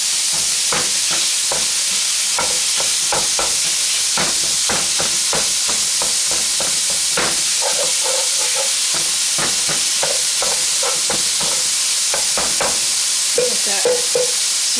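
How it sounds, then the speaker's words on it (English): Ground beef and chopped cabbage sear in a pan for a Pennsylvania Dutch Amish cabbage soup, giving a steady close sizzle broken by frequent sharp scrapes and taps of a utensil stirring, with no talk. "Let that sear off a little bit more."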